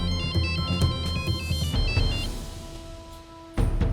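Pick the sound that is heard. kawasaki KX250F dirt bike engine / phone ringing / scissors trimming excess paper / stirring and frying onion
phone ringing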